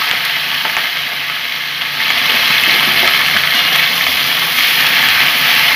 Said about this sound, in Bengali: এখন আমি একটু পেঁয়াজ কলিটা একটু ভেজে নিই।